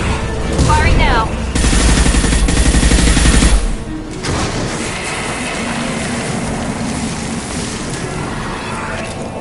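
Gunfire erupts in Mass Effect 2 aboard the Collector vessel as loud, dense sustained bursts for several seconds, then drops to a lower rumbling backdrop with voices talking over the action.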